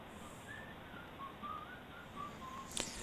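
A soft melodic whistle plays at low volume in the Urban Rangers background music of the Ed Edd n Eddy video game, a few short, wavering whistled phrases over quiet backing.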